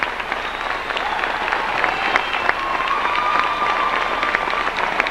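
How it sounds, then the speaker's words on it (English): A crowd at a 1998 girls basketball championship, Sterling vs Gloucester City, stands and applauds, giving a continuous, dense roar of clapping and cheering throughout. "a standing ovation from the crowd"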